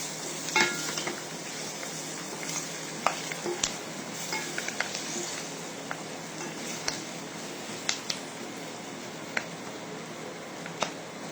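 Diced onions frying in oil for cauliflower rezala, a faint steady sizzle with occasional sharp clicks of a spoon stirring against the pan, no voices.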